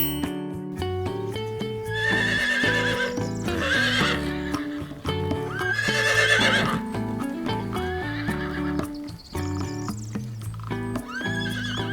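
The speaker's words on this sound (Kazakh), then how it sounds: "Бұл жылқы." A horse whinnies and neighs several times over about twelve seconds, loud and close, with clip-clopping hooves between the calls.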